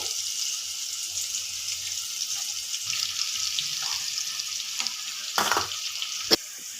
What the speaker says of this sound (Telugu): పచ్చిమిర్చి, ఆనియన్ని ఇలా ఆయిల్లో ఫ్రై చేసుకోవాలి.